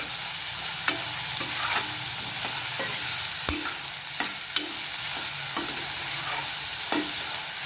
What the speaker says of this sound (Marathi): हा कांदा आपल्याला छान तेलामध्ये मऊ होईपर्यंत परतून घ्यायचं आहे